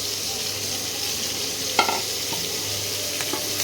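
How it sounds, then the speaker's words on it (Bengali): Cauliflower pieces fry in butter and oil with a steady hiss of frying and a couple of brief spatula clacks against the pan, close by and without voices. "এবার একটু ফুলকপিটাকে বাটার আর তেলের মধ্যে একটু ভেজে নিতে হবে।"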